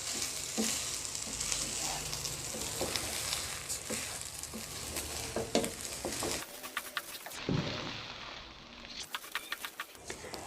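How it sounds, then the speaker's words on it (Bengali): Rice sizzles and crackles with spices in a pan while frying for plain pulao, with scraping stirring strokes and brief quieter gaps, close by and steady. "লবণ ছাড়াই চালটা খুব ভালোভাবে মশলার সাথে ভেজে নিতে হবে"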